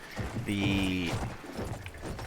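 A cavalry horse in the shooter game Battlefield 1 clopping along at a steady ridden pace, with a loud whinny early on over continuous game ambience.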